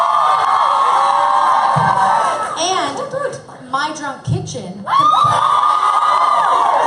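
Audience cheering and whooping with loud shouts and yells from an excited crowd, interrupted midway by a speaker's voice before the cheering surges again.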